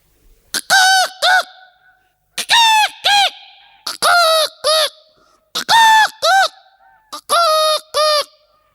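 A voice imitates a rooster crowing again and again, five loud, stuttering calls in a steady rhythm, each one rising and breaking.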